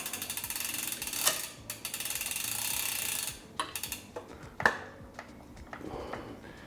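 On a 2020 Trek Emonda SL 7 road bike, the crank is pushed down against the held brake to seat the chain's quick link, producing a fast, close freewheel ratcheting buzz followed by a few sharp clicks and a metallic snap.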